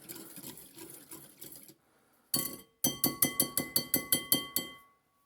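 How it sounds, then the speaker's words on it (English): Spoon stirring sherry trifle custard in a glass bowl, a run of about nine sharp, evenly spaced clinks against the glass after a softer scraping start, close and clear with no talk. "came out, give it a stir"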